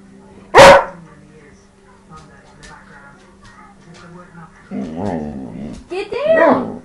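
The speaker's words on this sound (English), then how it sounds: "Don't bark at me!" A dog gives a loud sharp bark, then growls and grumbles in a low, throaty voice that rises into whiny, vocal barking at close range. No human talk is heard.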